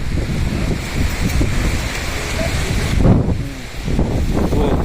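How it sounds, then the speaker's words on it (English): Strong wind buffets the microphone outdoors in Valencia, Spain, a loud continuous roar with gusting swells and a brief dip near the end. "I hope you can see the wind and how the wind is, blowing fast."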